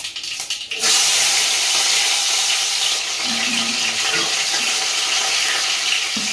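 Mustard seeds and cumin sizzle loudly in hot oil in a kadai, a dense, steady hiss that starts abruptly once the seeds hit the oil and carries on at full strength, close by.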